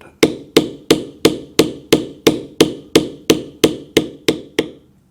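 Steady series of about fourteen sharp mallet strikes on a leather beveling tool, shaping the outside of a dragon's back wing in a leather carving, evenly spaced and close, with no talking.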